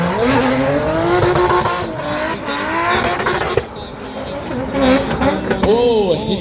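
Drift car at a race track, tires squealing in long wavering skids while the engine revs and drops, loud and close with brief gaps between slides.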